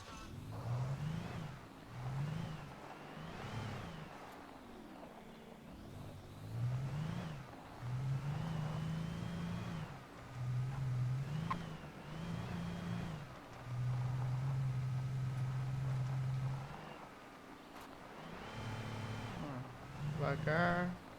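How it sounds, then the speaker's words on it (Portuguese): In the video game Alan Wake, a car engine hums and revs repeatedly at a low, steady pitch. It swells and eases in uneven stretches over about twenty seconds at moderate volume. "então vamos pegar o carro aqui"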